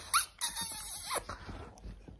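Pet dog at home making high whiny yelps and squeaky whimpers in a few short bursts, close and fairly loud, with no talk over it.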